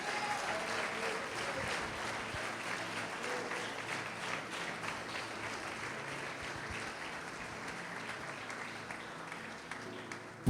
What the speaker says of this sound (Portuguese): pode aplaudir, glorificar a Deus